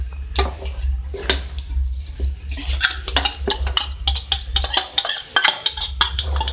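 Yogurt being whisked into a chicken white biryani mixture in a pot, a steady run of wet, sloppy stirring strokes with sharp utensil clicks against the vessel, up close, with a low hum underneath.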